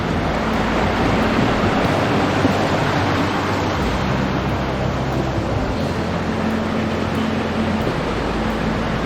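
Steady broadband rushing water, continuous and fairly loud, a Roztoka mountain stream in the Tatras in winter flowing close by with no voices.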